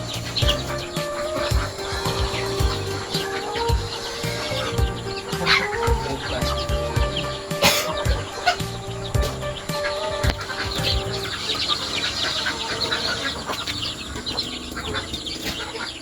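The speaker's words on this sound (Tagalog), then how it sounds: "mga manok kumakain." Chickens cluck and murmur close by as they feed, a busy overlapping flock chatter with occasional wing flutters and pecking sounds.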